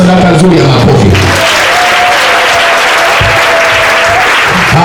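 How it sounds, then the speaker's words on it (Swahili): Congregation applauding during a church communion service, loud dense clapping that swells after a preacher's amplified voice fades, continuing steadily and close. "Mpe sadaka nzuri ya makofi."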